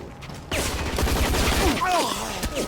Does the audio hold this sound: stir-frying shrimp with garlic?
no